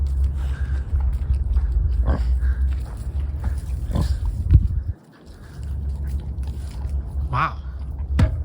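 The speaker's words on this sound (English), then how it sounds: "look at this pig." A pig rooting around while gathering nesting material in its pen makes low grunting sounds, close by, amid steady outdoor rumble and some talking.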